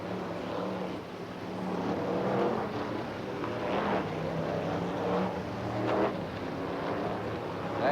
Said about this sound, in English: There's Harry Smith in the 100 car